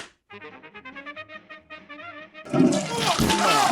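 Toilet flushing, a loud rushing gush of water that bursts in after a few seconds of tonal voice-like sounds and carries on to the end.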